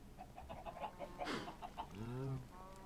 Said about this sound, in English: Chickens, I'm going to have to take away your observation block.